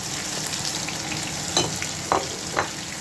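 Green chilies, garlic and ginger fry on full heat in a pan, a steady close sizzle with a few sharper pops and scrapes of stirring, no voices.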